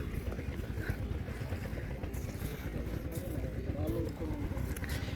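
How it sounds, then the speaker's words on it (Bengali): A river dredging trawler's engine drones in a low, steady rumble on a riverbank in Bangladesh, continuous throughout with people talking over it. "ট্রলারটি"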